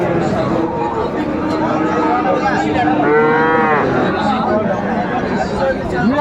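Cattle at a livestock market selling Friesian and crossbred bull calves, one loud drawn-out moo in the middle over a constant crowd of people chattering nearby.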